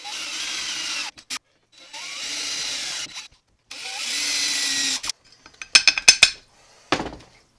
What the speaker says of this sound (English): drill straight into the wood so that it doesn't bend the aluminum